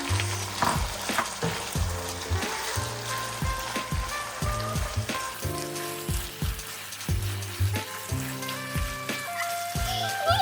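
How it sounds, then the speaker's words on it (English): Onions fry in a pan for pork bulgogi, a continuous crackling sizzle with repeated rhythmic tossing and scraping strokes, close and loud throughout with no talking. "I'm gonna toss some onions."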